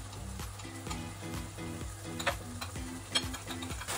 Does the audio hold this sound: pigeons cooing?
no